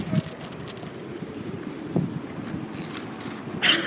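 A bicycle ride rolling on bare rims after the tire came off, a steady rumbling road noise with wind buffeting the microphone and a few knocks, close and continuous.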